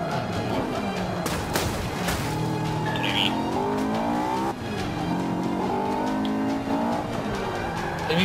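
A Honda S2000 races around Yas Marina in Forza 5, its engine revving and climbing through the gears with brief tire squeals, loud and close, while someone talks over it.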